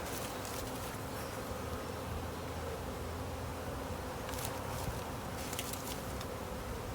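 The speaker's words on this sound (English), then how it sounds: "Those bees are all right." Honey bees from a newly hived package buzz in a dense, steady drone at close range, a continuous hum with no voices over it.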